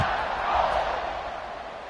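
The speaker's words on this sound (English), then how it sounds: "this crowd is buzzing after that last score" A stadium crowd in an American college football video game buzzes with a steady, dense roar, moderately loud and even throughout.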